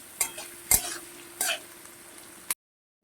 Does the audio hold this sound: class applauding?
no